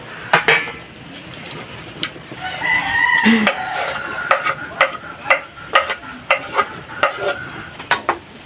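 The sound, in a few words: onions added to a frying pan, sizzling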